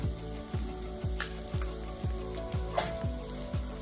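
Crushed garlic and cumin sizzle gently in a pan, joined by a couple of light utensil clinks, while a regular thumping musical beat plays underneath.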